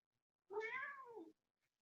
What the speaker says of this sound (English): You may hear a cat occasionally.